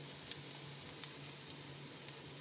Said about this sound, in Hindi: ये देखिए हमारा प्याज फ्राई हो गया है